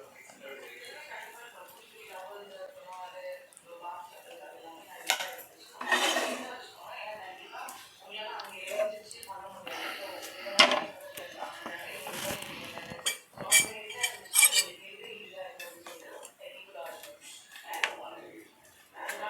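A spoon scrapes and clinks against pots and dishes as fish gravy made with musal paarai fish is moved into a bowl, giving sharp irregular metallic taps close by, with a voice talking and a cough in between.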